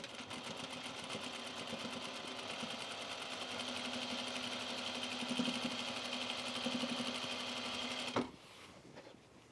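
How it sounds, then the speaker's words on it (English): A sewing machine runs steadily, stitching in the ditch along a binding seam on a pair of trousers, with a low continuous motor hum and rapid needle rhythm for about eight seconds before stopping abruptly. "we're gonna stitch it in the ditch"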